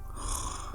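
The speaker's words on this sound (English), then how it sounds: "these 2 old ass motherfrickers are snoring" Snoring from people asleep in a hospital ward, a single rough, breathy inhale heard close and fairly quiet over a short moment, with no talking.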